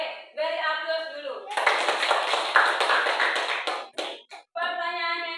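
A classroom of students bursts into applause for about two seconds, a dense patter of many hands clapping close by, with a teacher's voice speaking just before and after.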